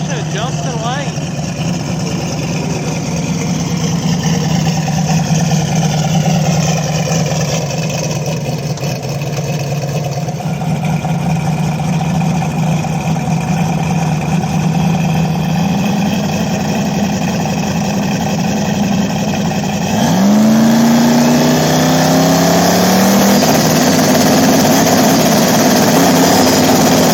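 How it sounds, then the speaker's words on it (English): Small block Ford turbo engines in Fox body drag cars idle loudly and steadily at a grudge race, with a deep rumble that shifts in pitch partway through, while an announcer talks over it. "Small block Ford, single turbo Fox body. Taking on the twin turbo small block combination of Justin Lane."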